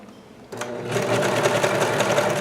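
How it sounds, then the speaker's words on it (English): A serger stitches along the edge of a sewing pattern piece and trims the fabric as it goes, starting after a brief quiet moment as a steady, loud whirring chatter that runs on without a break. No voices are heard. "as I stitch through here, it's is just grabbing a little bit of this fabric while stitching this and cutting this off at the same time"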